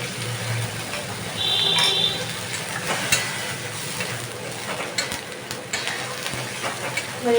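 Spices and ingredients for a Bengali dhokar dalna with tarka dal sizzle steadily in a pan while being stirred, with a faint scrape near the start and continuous frying hiss throughout.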